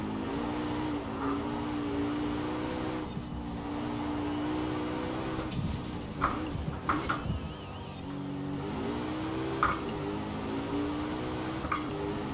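Porsche Cayman 718 GTS racing on a tight circuit in Forza Horizon 4, its engine revving and shifting in rising and falling pulls, steady and close, with brief tire squeals and bumps.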